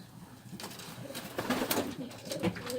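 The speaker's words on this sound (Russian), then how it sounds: "Сейчас покажем вам несколько голубей игровых." Tajik play pigeons coo in Dushanbe, soft repeated low coos and wing flutters close by, with faint background voices.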